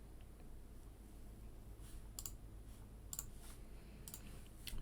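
Computer mouse double-clicking, several faint paired clicks scattered over a quiet room hiss, close and soft, with no voices.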